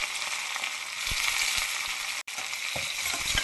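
Sliced onions fry in oil with green chillies and curry leaves for potato rice, making a continuous close hiss and sizzle with occasional soft pops and a brief cut partway through.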